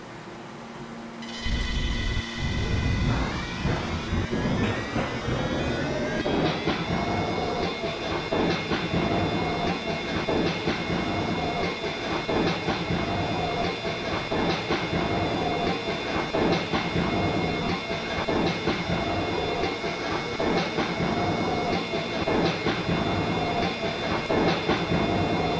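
An R143 Siemens subway train on a Roblox L line, Ridgewood bound, starts up and runs steadily: a low rumble with rising motor whine and rhythmic track clatter, loud and continuous throughout.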